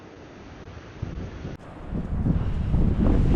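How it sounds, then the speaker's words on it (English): Steady wind buffeting the microphone outdoors, a low rumbling roar that grows louder and gustier toward the end, with no voices. "since it's still windy outside"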